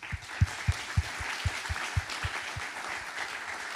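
An audience applauding the speakers at a robotics event in Montpellier: a short burst of rhythmic clapping, with strong claps at first that fade toward the end over a room murmur.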